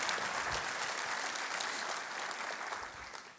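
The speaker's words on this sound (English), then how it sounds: "Let's give them a round of applause for their work." Steady, moderate applause from an audience at a civic business event fills the space as a continuous wash of claps, fading slightly toward the end.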